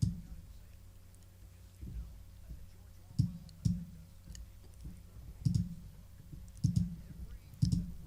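Mouse clicks on a computer while filling in an online court document form, a series of sharp, close single clicks at irregular intervals, with a low hum underneath.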